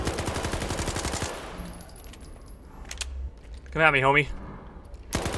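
Gunfire in Stalker 2: Heart of Chornobyl, a short rapid burst from a powerful rifle heard up front, followed by quieter game sounds while someone talks over the action.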